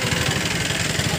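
Engines of tractors and other vehicles passing at a crowded roadside rally, a dense steady rumble with throbbing low pulses, loud and close for a brief moment.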